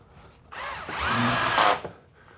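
A power drill drives a fine-threaded drywall screw into a metal resilient channel on a ceiling, one loud whirring burst of about a second that rises and then cuts off, heard close up.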